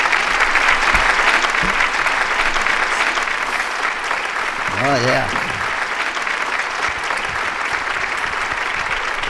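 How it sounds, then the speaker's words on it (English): A studio audience on a firearms talk show gives a guest a sustained round of applause, with steady, full clapping throughout and a brief voice speaking over it midway. "let's welcome him on with a round of applause"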